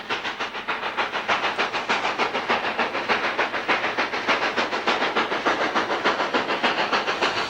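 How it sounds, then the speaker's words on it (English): A narrow-gauge Denver & Rio Grande Western steam locomotive pulling out of a yard chuffs in a steady, quickening rhythm, loud and close, with hissing steam throughout. "black clouds of smoke greet the photographer as the train pulls out of the yard"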